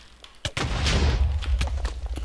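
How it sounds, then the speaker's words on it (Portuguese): An explosion goes off in a Minecraft PvP fight, a sharp crack followed by a loud, sustained rumbling blast that slowly tails off. "Mano, uma explosão dessas quase mata já."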